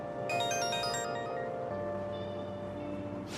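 A phone rings in the video game Persona 5 Royal, a bright melodic ringtone of quick chiming notes that plays for about a second, then gives way to a steady lower hum.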